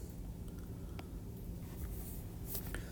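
Pen or pencil writing a number inside a drawn shape while working a prism surface-area problem, a faint scratchy scribble near the page, quiet and alone.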